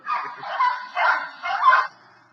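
Recorded barking from dogs at a kennel, four quick yapping bursts in a steady rhythm, moderately loud, then trailing off.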